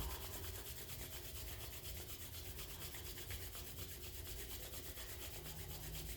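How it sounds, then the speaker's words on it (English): Palms rubbing briskly together during a yoga session, a steady, continuous dry friction hiss that stays even and fairly loud for several seconds with no talking. "bring the hands together and just rub them together."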